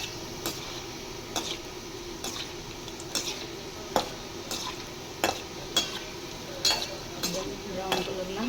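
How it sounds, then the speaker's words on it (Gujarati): Gulab jamun balls frying in hot oil over a slow flame, a steady soft sizzle broken by repeated clinks and scrapes of a stirring spoon against the pan at close range. "સ્લો ફ્લેમ ઉપર તળવા દેશું."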